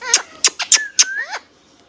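A hand-tame green parrot calls nearby in a quick run of about five sharp, squeaky chirps, with a short whistled, gliding note near the end, close and fairly loud with no talk.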